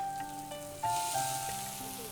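Boiled potatoes fry in mustard oil in a pan, a soft, steady sizzle heard up close at low volume with faint clinks along the way.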